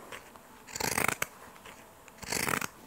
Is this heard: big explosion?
no